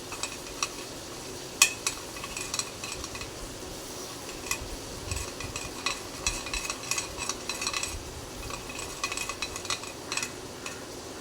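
Egg cracked into a frying pan with a little oil, broken up and stirred for a prawn gravy, giving soft steady scraping and clinking of a utensil against the pan over a faint sizzle, with no one talking.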